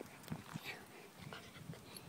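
A stray dog whimpers softly in short, faint whines and breathy sounds, scattered across a quiet outdoor background with no clear talk.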